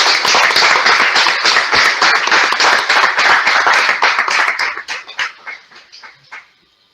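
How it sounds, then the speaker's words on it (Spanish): Loud applause from an audience at a book presentation, dense clapping that thins out and fades into a few scattered claps at the end. "Un aplauso."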